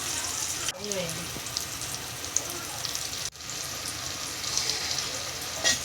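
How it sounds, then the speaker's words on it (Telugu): Curry leaves and green chillies fry in a pan for mutton curry, crackling and sizzling close by in a steady, bright hiss with a couple of brief breaks, and no voices. "కరివేపాకు పచ్చిమిరపకాయ వేసుకుని బాగా ఉడికించుకుందాం"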